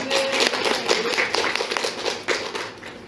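A church congregation claps continuously in a dense, even applause filling a large room, steady and loud throughout.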